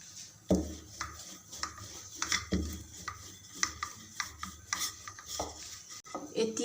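Kata nimki dough rolled out on a board, with repeated soft rubbing and scraping strokes and light knocks of the rolling pin in an irregular rhythm, quiet and close-up.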